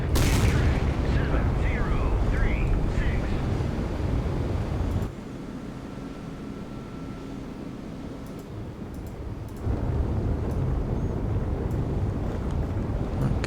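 5-inch naval gun shells fire in the naval combat game Sea Power, a dense rumbling barrage mixed with wind-like sea noise that drops to a quieter stretch midway, then swells again.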